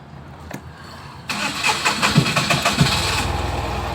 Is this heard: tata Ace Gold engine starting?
yes